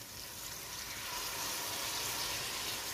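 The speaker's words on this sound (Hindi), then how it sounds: "अभी इसमें हम थोड़ा सा पानी ऐड करेंगे ताकि मसाला हमारा नीचे ना लगे।" Water poured into masala cooking in a pan for a mixed vegetable curry of potato, peas, carrot and cauliflower, a steady broadband gush and sizzle that holds evenly for the whole few seconds with no talking.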